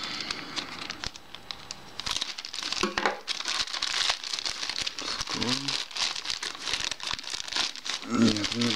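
Knife cutting into an AliExpress parcel from China, then crinkly plastic packaging being torn and unwrapped, close and busy with short rustles; someone talks briefly during it.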